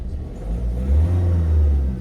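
A 2009 Ford Focus with a 1.6 TDCI diesel engine runs with a loud, close, low rumble that swells slightly as if lightly revved, with no talking.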